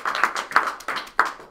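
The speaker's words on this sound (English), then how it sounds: "And big round of applause." A few people clap at a startup cafe event, irregular sparse claps in small bursts, close and fairly loud, with no talk over them.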